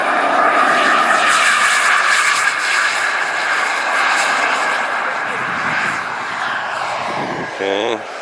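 Military jet aircraft coming in to land, one of several stacked up over Kentucky, a loud sustained engine roar that fills the whole stretch, with people talking over it and a short tonal sound near the end.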